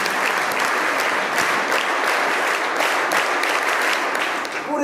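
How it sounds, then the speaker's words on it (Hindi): Loud, sustained applause from a crowd gathered at a school event at a Sainik school in Supkheda, Washim, in honour of the school staff: dense, steady clapping running unbroken for several seconds before tapering slightly at the end. "इस स्टाफ के लिए एक बार जोरदार ताली होना चाहिए।"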